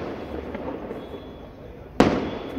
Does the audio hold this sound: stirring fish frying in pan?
no